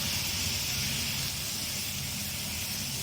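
Hot oil hissing and spattering while chicken fries in a pan, a steady dense sizzle that holds level throughout with no voices.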